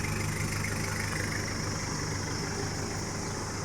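A 2009 Isuzu D-Max 2.5 pickup truck idles steadily through an aftermarket exhaust, a continuous low rumble with a slightly raspy tone, close and unchanging throughout.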